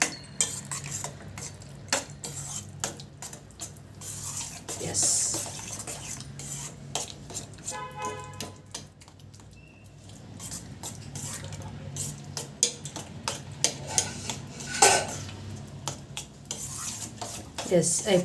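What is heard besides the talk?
stirring cooked dish in a pot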